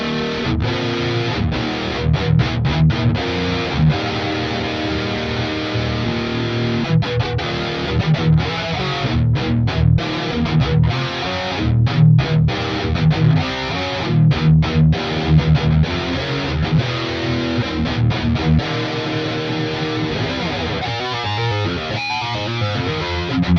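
Heavily distorted high-gain electric guitar run through a Neural DSP Plini X amp plugin with its doubler engaged, playing dense chugging riffs and chords at steady loudness with a few sharp stops, alone with no talking.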